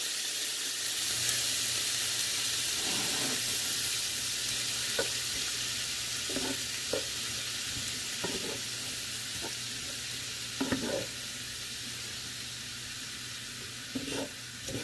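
Onions cook over medium-high heat in a cast iron skillet for championship chili, giving a steady sizzle with occasional clacks and scrapes of stirring, close up and without talk.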